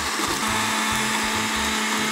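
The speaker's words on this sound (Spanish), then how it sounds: "Estamos claros que esa es mi licuadora" A kitchen blender whirs steadily while mixing a drink of coffee, cinnamon, rum and cacao, with a churning low pulse beneath the high motor whine, heard alone for about two seconds.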